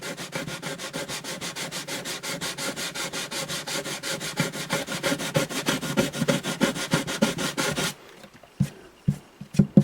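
Rapid rhythmic sanding of a rosewood bridge on an Alvarez Artist AD65 acoustic guitar with sandpaper, steady close strokes that stop near the end, leaving a few light taps.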